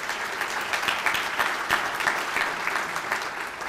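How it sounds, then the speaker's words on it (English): An audience at a civic business luncheon applauds for event sponsors, a steady wash of clapping hands throughout, moderately loud and sustained. "Please give a round of applause for all of today's sponsors."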